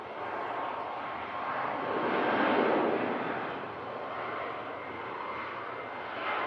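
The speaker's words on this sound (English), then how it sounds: "on finals, we have a Cessna VistaJet coming in from London City" A Cessna VistaJet on final approach into Manchester Airport in thick fog, a distant roaring jet engine that swells to a broad rumble midway and then eases into a steady, fainter wash of noise.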